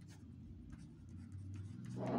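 A pen writes on paper during a Class 10 maths lesson on linear equations, a close, faint, steady scratching that swells into firmer strokes near the end, with no talking.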